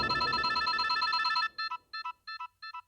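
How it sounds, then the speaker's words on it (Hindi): A telephone rings at moderate volume: first a continuous warbling electronic ring, then five evenly spaced short bursts, with no voices. "एक मिनट, एसपी साहब का फोन है।"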